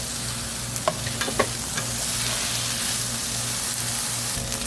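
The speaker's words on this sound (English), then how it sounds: "Stir fry for 15 minutes" Cicadas crackle and sizzle in hot oil in a pan, with a few sharp stirring clinks over a close, continuous frying hiss.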